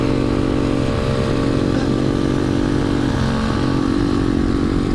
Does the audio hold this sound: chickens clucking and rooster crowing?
no